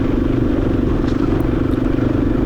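A Yamaha XT250 dual-sport motorcycle rides along a trail in Canada, its single-cylinder engine droning steadily and close, with a constant low hum and light clatter throughout and no talking.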